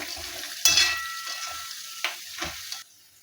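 Curry leaves fry in hot oil for a roasted poha chivda, crackling in sharp bursts as they are stirred, with a loud spatter followed by a fading hiss and further crackles before the sound cuts off.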